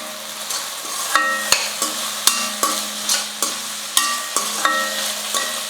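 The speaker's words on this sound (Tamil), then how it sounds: "காய்கறி சேர்த்ததுக்கப்புறம் எண்ணெயில் வந்து ஒரு நிமிஷத்துக்கு நல்லா வதங்கட்டும்" Vegetables for semiya kichadi sizzle and fry steadily in hot oil while a utensil scrapes and taps the pan at irregular intervals, close and fairly loud.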